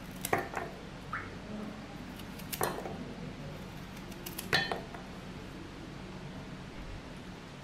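A knife cutting coconut slices into small pieces, a few sharp isolated taps and clicks against a board spaced a second or two apart, faint and close over quiet background hiss.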